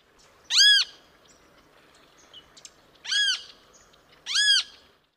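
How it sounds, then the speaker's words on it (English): A Great Kiskadee calls three times, each a loud, sharp, harmonically rich burst that stands out clearly against a quiet, faintly noisy outdoor background. "Great Kiskadee."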